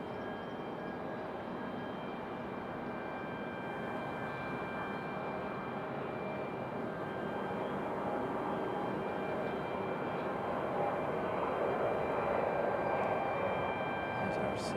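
Delta Boeing 757 arriving at Raleigh-Durham from Atlanta, a continuous moderately distant jet engine rumble with steady whining tones that swells slightly toward the end.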